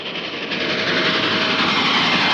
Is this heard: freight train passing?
yes